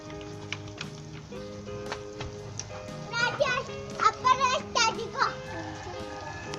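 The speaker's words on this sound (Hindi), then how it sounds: "दोस्तों बच्चे यहाँ पे खेल रहे हैं।" Children play and chatter close by in a home kitchen where chicken curry is simmering. Their high voices come in bursts and get livelier in the second half, with light clicks and clatter beneath them.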